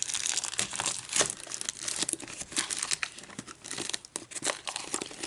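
Plastic wrapping on a Pokémon trainer box crinkles and tears in continuous close-up rustling, with sharper rips mixed in and no voices.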